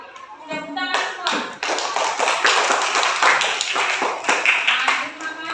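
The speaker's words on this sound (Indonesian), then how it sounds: "Coba tepuk tangan semua." A classroom of students claps hands together in a dense, steady burst lasting several seconds. A few voices mix in underneath the clapping.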